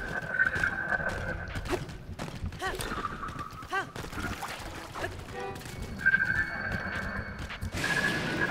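Horse neighs and hoof clip-clop in a video game, a whinny rising over busy game noise and scattered effects, with faint voices underneath.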